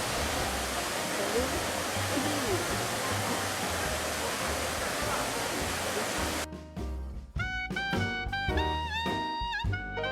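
Steady roar of rushing water from Thung Na Mueang waterfall in Ubon Ratchathani, Thailand, fills the first several seconds, then abruptly gives way to music.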